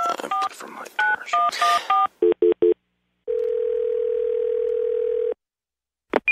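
Telephone keypad tones ring out in quick bursts of dual-tone beeps, followed by a steady dial tone lasting about two seconds and a final short beep, loud and clear with no talking.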